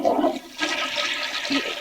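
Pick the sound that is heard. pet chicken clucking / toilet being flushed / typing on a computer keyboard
toilet being flushed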